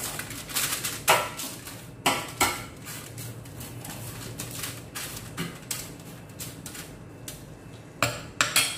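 Quinoa mixed with salt in a bowl produces repeated clinks and scrapes of a utensil against the dish, in irregular bursts with softer stirring between them, close and clear.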